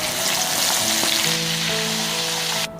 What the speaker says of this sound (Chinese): 大虾撒上淀粉煎一下